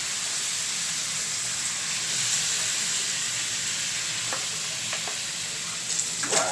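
Squid simmering in coconut milk in a small frying pan gives a steady, close sizzling hiss throughout, with a few light stirring clicks near the end.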